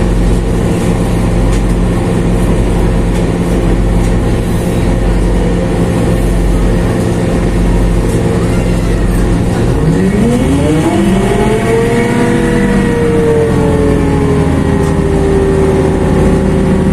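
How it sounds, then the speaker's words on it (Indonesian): Interior of the passenger cabin on the Kedung Sepur local train between Semarang Poncol and Ngrombo: a loud, steady low rumble fills the space, and a rising mechanical whine swells in partway through. "Kondisi di kabin penumpang kereta api Gedung Sepur"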